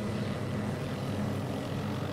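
In the video game Garry's Mod, a helicopter propeller gives a steady whirring drone that continues unbroken at low-moderate loudness for the whole short clip, with no talk.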